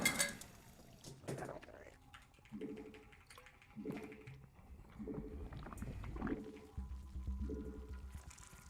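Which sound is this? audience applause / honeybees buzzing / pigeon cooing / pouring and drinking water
pouring and drinking water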